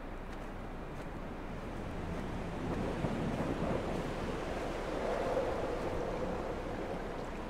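In the video game Dear Esther, creek water and waves give off a continuous broad rushing wash that swells slightly midway. It stays steady and fairly loud, with no voices over it.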